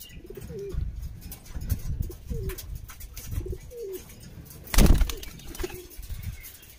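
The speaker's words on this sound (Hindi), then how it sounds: "ये है जी कबूतर, देखो भाई, ये भी देखो" Pigeons coo repeatedly in soft, rolling calls close by, with a brief burst of wing flapping partway through.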